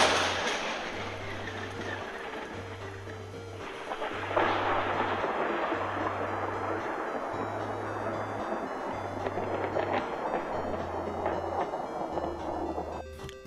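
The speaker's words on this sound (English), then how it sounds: "storm was brewing overhead" Violent thunderstorm over a country highway, with steady rolling thunder and rain noise forming a loud, continuous, dense roar throughout.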